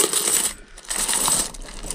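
Ukrainian 50 kopeck coins from 1992 clink and rattle as a pile is handled and stirred, a steady, close metallic jingle that dips briefly before continuing.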